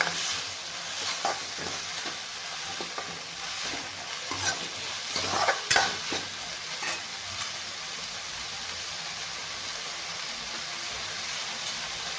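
Soaked pulses frying in oil give a soft, steady sizzle with irregular clacks and scrapes of stirring, busiest around the middle, then settling into a quiet continuous hiss, with no talking.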